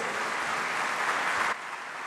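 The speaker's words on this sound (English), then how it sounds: "Ladies and gentlemen, he's yours for the applause" Sustained applause from a conference audience at an annual banking meeting, dense steady clapping that fills the room for about a second and a half before abruptly dropping to a quieter level.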